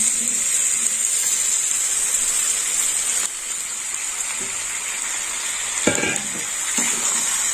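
Onion stalks frying in a pan of cooked-down spices with tomato, a steady bright sizzle throughout with a few soft scraping stirs near the end, no talk.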